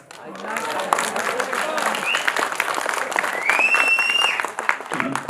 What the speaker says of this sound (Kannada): ಈ ಚಿತ್ರದ ಕ್ಲೈಮ್ಯಾಕ್ಸ್ ಇಷ್ಟ ಆಯ್ತು ಅಂತ ಚಪ್ಪಾಳೆ ತಟ್ಟಿದ್ದಾರೆ